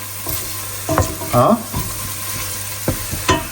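Shallots sizzle steadily in a hot pan over medium-high heat, with a few sharp clinks and scrapes of a utensil stirring.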